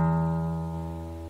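A single low open guitar string, played for tuning, rings out clearly and slowly fades over about a second, alone with no other sound.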